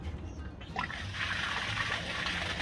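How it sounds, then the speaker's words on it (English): Water splashes and trickles nearby in a motorhome setting, a steady wet rush rising after a brief quieter start. "Got something splashed on my back then."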